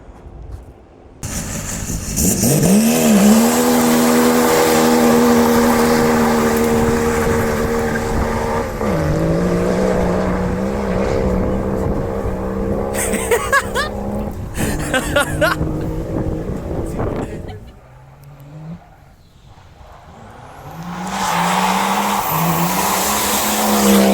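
Drift car on a run up the Galway Hillclimb touge in Ireland, engine held at a loud, steady high-rev howl with shifting pitch and tyre noise, dipping briefly before revving hard again close by.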